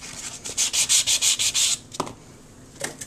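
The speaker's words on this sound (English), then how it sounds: "I just keep sanding it." Scrapbook paper being sanded by hand with sandpaper, a run of about eight rhythmic rasping strokes, close and fairly loud, then a pause with a couple of faint scrapes.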